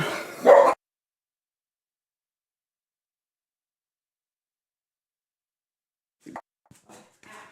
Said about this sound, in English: pardon the dogs for a moment. Someone's at the door.